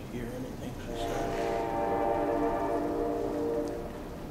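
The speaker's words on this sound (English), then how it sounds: "The train going by shakes the glass in here." A passing train sounds a long, steady horn that swells and then fades. The horn is heard from inside an old house while a train rumbles underneath it.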